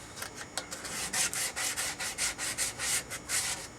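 Sandpaper of 180 grit rubbed back and forth over a wooden workpiece, cleaning fuzz and burrs from curves and drill holes, in steady rasping strokes close up with no talk.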